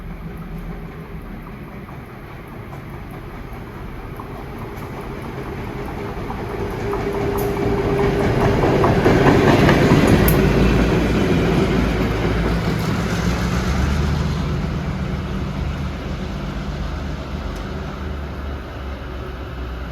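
Two EMD MP15AC end-cab diesel locomotives running light on the middle track of the LIRR triple track near Carle Place and Mineola pass by on a damp day, engines rumbling and revving, swelling loud mid-pass with clickety-clack of wheels, no talk.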